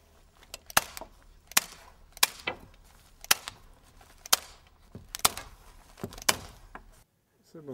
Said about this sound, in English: Form an insulation return to ensure good airtightness and staple it every 5 centimeters to the